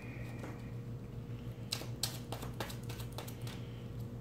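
Quick card shuffle in the online Pokémon TCG video game, a soft series of rapid clicking and flicking ticks over a faint steady hum, quiet and close.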